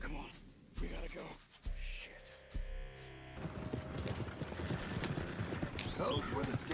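Horses galloping in Red Dead Redemption II, a rapid rhythmic clip-clop of hooves that builds to a loud steady drumming, with a whinny and voices talking over it early on.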